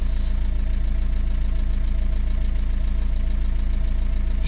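Renault Megane 3 dCi diesel engine idling steadily with a loss-of-power fault, a close, even low rumble with fine knocking pulses holding constant throughout.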